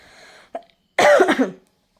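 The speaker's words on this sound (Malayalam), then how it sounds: "അയ്യോ ചുമച്ചു പോയി" A person coughs once briefly, then lets out a louder, longer burst of coughing in a quiet room at home during a meal, with no talk.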